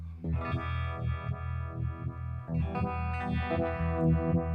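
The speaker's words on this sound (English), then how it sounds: "phasers don't have that signature kind of turnover sound that a univibe has" An electric guitar played through a Retro univibe effect pedal, its chords swirling with a pulsing, throbbing phase sweep, loud and continuous with a distorted edge.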